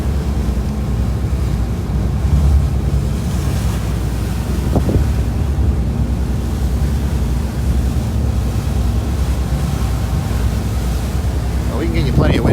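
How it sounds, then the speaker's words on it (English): Heavy wind buffets the microphone on a whale-watching boat off Cape May, a constant loud low roar with engine and water noise underneath. "We can get you plenty of wind noise if you want to feel the breeze here."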